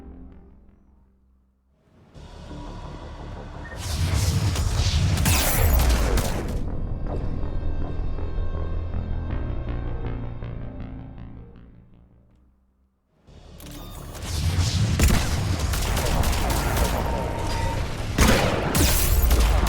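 Heavy gunfire and booming explosions rage through a Mass Effect 3 battle in two long loud waves with a quieter rattling stretch between them, dense and close.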